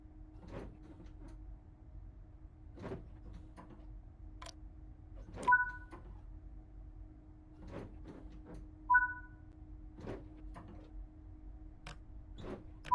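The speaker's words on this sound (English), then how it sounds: "Please open the left passenger doors." In Train Sim World 6, passenger train doors on the West Coast Main Line slide open with soft clunks and a pair of two-tone door chimes, set over a steady low electrical hum with scattered ticks.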